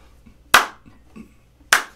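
Two sharp claps about 1.2 seconds apart, crisp and fairly close, with faint soft knocks between them, marking a steady backbeat for rhythm guitar.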